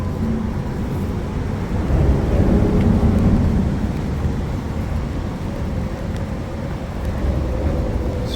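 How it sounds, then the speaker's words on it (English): Steady rain on the Appalachian Trail makes a continuous broadband hiss and patter, joined by a low rumble that swells and fades, with no speech. "Still raining."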